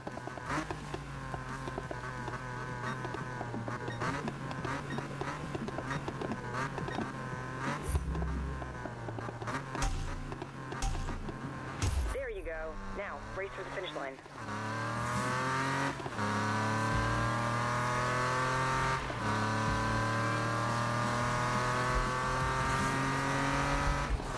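Race car engines in a Need for Speed drag race rev hard and accelerate, rising harmonic whine with gear shifts and a brief tire squeal, loud and continuous with no talk.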